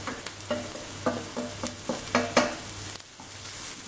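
Anchovies (kozhuva) deep-frying in oil with crushed garlic and dried red chillies, a steady close sizzle broken by repeated stirring scrapes and clinks, with no talking.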